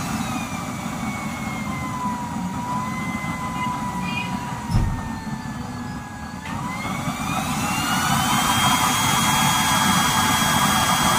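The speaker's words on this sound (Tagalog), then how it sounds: "Ito yung ating tinesting na nozzle burner sa isang unit natin. Lakas din, no?" A used-oil stove's nozzle burner with a 24-hole pattern roars steadily and loudly, a continuous broad rush with a whistling tone that shifts and rises partway through, with one brief knock midway.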